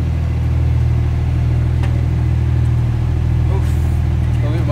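Porsche supercar on a race track, a continuous deep engine drone with steady low harmonics heard from inside, loud and unbroken, with voices faintly present.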